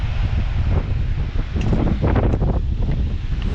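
Steady wind buffeting a microphone outdoors, a constant low rumble and hiss throughout with slight gusty swells.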